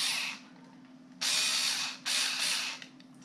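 A Teccpo 4V Max cordless screwdriver whirs close by in three short bursts, each a steady high motor buzz with gaps between, over a constant low hum.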